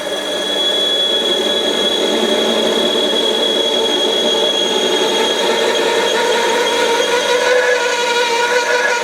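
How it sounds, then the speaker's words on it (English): A Warco metal lathe bores a part with a 17 mm drill, giving a steady, loud, continuous whining machine noise close by with no speech. "So I'm going to go in with a 17 drill and just bore it out just over 18."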